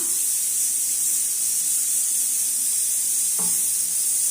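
Oil heating in a kadai on a stove for raw papaya gravy gives a steady, close hiss of sizzling throughout, with a brief clink partway through and no talking.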